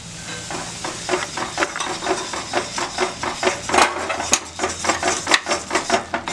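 Hot ghee goes into a gram flour and sugar batter for Mysore pak, which sizzles while being stirred. Quick, regular scraping strokes ride over a continuous frying hiss, close and loud, with occasional metallic clinks.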